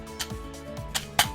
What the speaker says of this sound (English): This is the sound of the spring